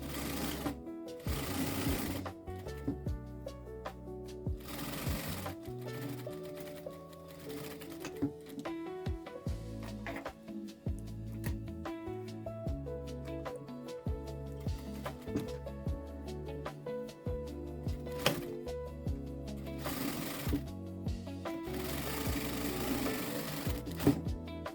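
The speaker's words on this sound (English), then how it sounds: "Sew the shoulders and sides of the coat with a 1 centimeter seam allowance." A sewing machine runs a 1 cm seam along the shoulders and sides of a teddy jacket, stitching in a steady rapid whir with short stops and restarts for backstitching, close and alone.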